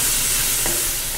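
Chopped sayote (chayote) stir-frying with onions and garlic for pancit canton, a loud, close, dense sizzle that holds steady through the brief moment, with one faint stir scrape.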